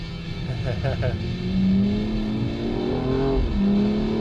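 A sports car accelerates hard around the Spa race track, its engine note rising and revving loudly through the gears, steady and close, with speech over the engine.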